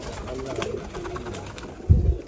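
Giribaz pigeons coo softly in low, rolling murmurs, with a louder, deeper coo near the end, close by and without talk.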